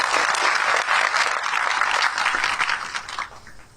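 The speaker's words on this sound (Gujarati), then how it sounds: "એક વાર હજુ મંચ પર બેઠા લોકોનું જોરદાર તાળીથી." Loud, dense applause from a large crowd at a community meeting, cheering the people seated on stage; steady clapping that tapers off near the end.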